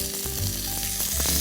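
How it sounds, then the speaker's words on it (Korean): Chicken pieces coated in batter fry in oil in a pan, giving a loud, constant crackling sizzle with small pops and faint clinks of a utensil, heard without talk. "노릇노릇한 상태로 이렇게 구워내시면 돼요"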